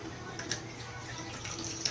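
Water pours gradually into a bowl of batter made with cooking oil and butter, giving a soft, steady trickling splash at close range.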